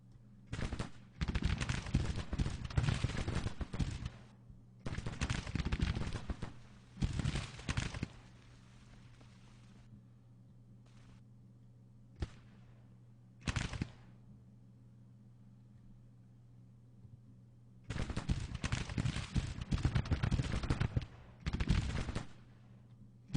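Civil War rifle fire crackles in the strategy game Grand Tactician: The Civil War, coming in several long bursts of rapid, rattling volleys separated by quieter gaps with a steady low hum beneath.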